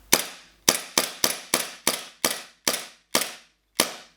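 WE M92 gas blowback airsoft pistol fired in quick succession, ten sharp cracks with short decaying tails, evenly spaced apart from one early gap, close and alone.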